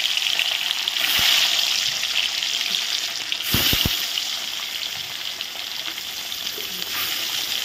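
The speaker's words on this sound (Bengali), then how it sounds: "তো এখন আমি মাছের পেটিগুলো দিয়ে দিচ্ছি।" Rohu fish belly pieces frying in hot oil, a continuous bright sizzle with a few sharp knocks and clatters partway through, close up with no speech.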